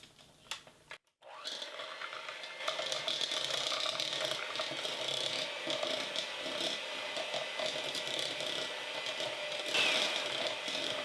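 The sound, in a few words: hand mixer creaming butter and sweetener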